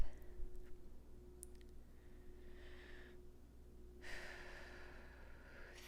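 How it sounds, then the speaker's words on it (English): A slow deep breath drawn in and then let out, soft and close, over a low steady hum with no talking. "let's go ahead and take a deep breath"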